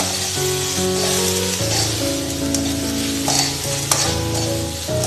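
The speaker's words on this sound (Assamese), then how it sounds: "বিলাহীখিনি আমি অলপ ভালকৈ ভাজি ল'ম" Tomatoes sizzle and fry steadily in a pan while a utensil stirs and scrapes, with a couple of sharp clinks.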